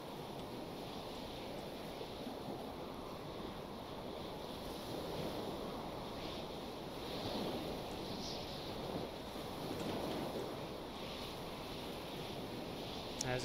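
Simulated ocean waves and wind in the Stormworks video game around an anchored vessel, a continuous broad wash of surf and gusting air that swells slightly at times, steady and moderately loud with no speech.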